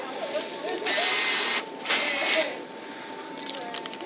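A dollar bill acceptor at a Target store whirs briefly in two motorized bursts as it pulls in and then rejects a crinkled bill, with store background noise around it.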